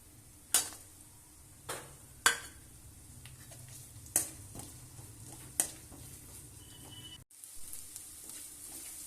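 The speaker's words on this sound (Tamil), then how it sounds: "பாருங்க, இப்ப வெங்காயமும் தேங்காயும் நல்லா ஃப்ரை ஆயிருக்கு." Onion and grated coconut fry in oil in a pan for an eggplant curry, giving a steady low sizzle broken by sharp clinks and scrapes of a spoon stirring against the metal. No one speaks.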